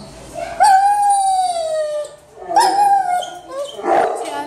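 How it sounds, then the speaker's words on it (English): A dog whines and howls in long, rising and falling tones, with two sustained cries and a shorter yelp near the end, loud and close. "It sounds like you're a really great dog,"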